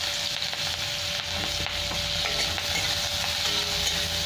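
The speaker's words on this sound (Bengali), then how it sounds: "পেঁয়াজটা লাল লাল করে ভেজে নেব।" Sliced onion and a slit green chilli frying in oil in a pan, giving a steady, dense sizzle with light scraping as they are stirred, close and continuous.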